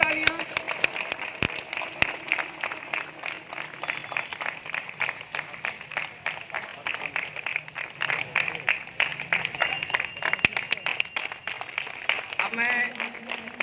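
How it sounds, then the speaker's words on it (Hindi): Sustained applause from a festival audience at the silver jubilee ceremony of the Latiya Mahotsav in Zamania, as an inspector offers flowers; dense, steady clapping runs throughout the clip, with a voice speaking over it. "जोरदार तालियां"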